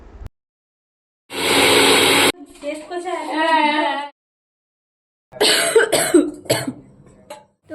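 A mixer grinder blends ginger, cumin, chili, tomato and onion into a paste, with one loud, harsh whir lasting about a second. A voice follows, and then a few more short, noisy bursts come.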